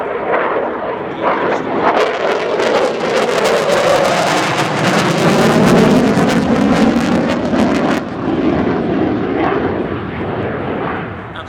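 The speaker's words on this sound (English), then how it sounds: "as Nathan sets up for an inverted burner break" An RAF Typhoon FGR.4 jet roars through an inverted afterburner pass at an air show. The loud, continuous rumbling thunder swells and crackles for about ten seconds, then eases slightly as it passes.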